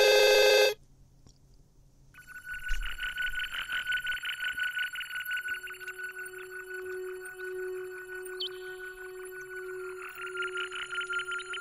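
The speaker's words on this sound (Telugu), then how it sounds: "ఫోన్ వస్తుంది" A telephone rings in a steady electronic warble that repeats for several seconds, close and clear and alone, after a short burst of sound at the start.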